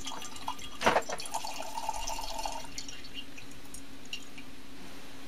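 Liquid dripping and trickling from a separatory funnel as the aqueous layer is run off in a chemistry lab, a sharp splash followed by a short gurgling stream, soft and close.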